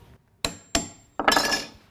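Three sharp taps of a metal awl struck into wood to mark a nail hole for a birdhouse, the first two short and clean, the last a longer ringing clatter, close and alone.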